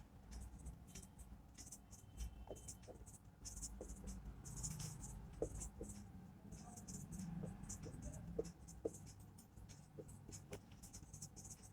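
A marker or chalk scratches across a board in short strokes and taps while a chemistry formula is written out. The sound is faint and close, with light bursts and pauses between strokes over low room noise.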